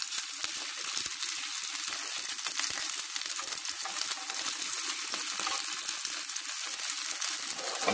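Steak and broccoli pancakes made with flour and cornstarch fry in a pan after being flipped, giving a dense, even hiss of sizzling oil that holds steady throughout with no speech.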